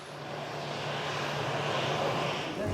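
A passenger airliner, Flight 570, departs Bristol, its steady broadband engine roar holding at a constant, fairly loud level without talk.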